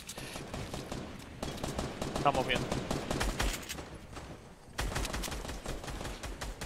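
Rapid bursts of gunfire in Fortnite crackle continuously, with short pauses between volleys and a voice speaking briefly over the shooting.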